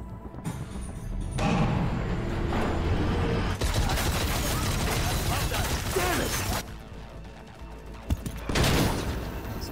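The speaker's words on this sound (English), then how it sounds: "Explosions!" Explosions and gunfire in a melee-focused video game, a dense, loud roar of blasts and rattling bursts filling most of the stretch, with brief quieter gaps and a sharp hit near the end.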